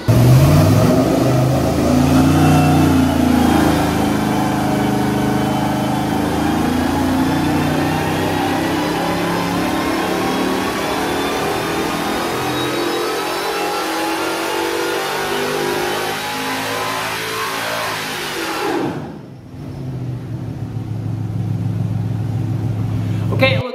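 A junkyard M90 supercharger from a V6, fitted with a 3.0 pulley, whines over a 4.8L LS V8 as it revs steadily and loudly, with rising pitch sweeps, then cuts out briefly before the engine rumbles back up.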